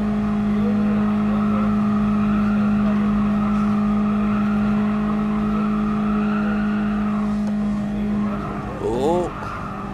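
A race car engine in GT Sport, played on PSVR, holds a loud, steady high drone at sustained speed, then a quick tire squeal and pitch dip near the end.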